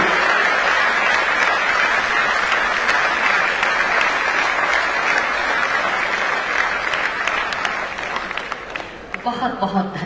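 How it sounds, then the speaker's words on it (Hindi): An audience at a state-level government employment ceremony applauds loudly and steadily for about ten seconds, a dense continuous clapping that thins slightly toward the end. "बहुत बहुत धन्यवाद आपकी इन तालियों के लिए"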